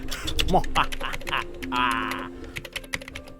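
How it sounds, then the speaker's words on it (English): Computer keyboard typing during a visual novel game, a run of clicky keystrokes in uneven bursts over background music and voices. "Typing away and doing my usual extra work Julie assigns"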